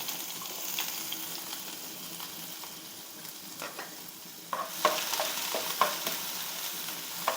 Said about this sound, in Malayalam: ചുമന്നുള്ളി ഇട്ട് കൊടുക്കാം.